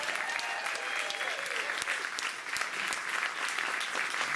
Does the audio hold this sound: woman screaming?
no